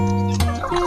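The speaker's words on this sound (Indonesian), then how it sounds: "di sini tuh kalau malam anakan ayam saya itu pada tidurnya di atas sini ya" Chickens in a backyard coop, a loud close burst of fowl calls with tonal gobbling and clucking notes shifting in pitch, no talking.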